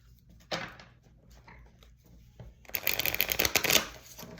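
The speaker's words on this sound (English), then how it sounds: "Give it a shuffle again." Tarot cards being shuffled by hand, a quick flick early on followed by a longer, louder riffling run of crisp paper snaps, close and without talk.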